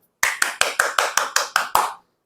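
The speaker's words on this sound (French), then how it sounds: "On applaudit les femmes, on applaudit pour eux." Crowd applause at a ceremony honouring soldiers in Mali: eight sharp, evenly spaced rounds of clapping over two seconds, loud and close, with no talk.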